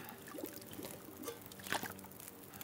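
Water trickles and pours into a cooking pot in the survival game The Long Dark, a soft, close liquid stream with a brief louder splash near the end, no voices.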